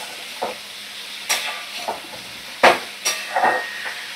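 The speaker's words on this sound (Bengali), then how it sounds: "এবারে আমি একটা টমেটো, কুচি করে রাখা টমেটো দিয়ে দিলাম। দিয়ে 2 মিনিট একটু নাড়াচাড়া করে নেব।" A spoon stirs eggplant, potato and chopped tomato in a frying pan, producing several distinct scraping clinks spaced irregularly over a low background sizzle.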